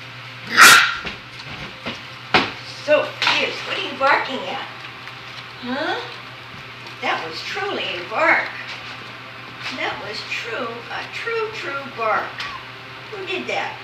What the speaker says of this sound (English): Who barked?